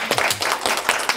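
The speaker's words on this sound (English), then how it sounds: "No, I'm doing the clapping." Audience clapping at a book launch, dense brisk applause from a small crowd, close and fairly loud, continuing throughout.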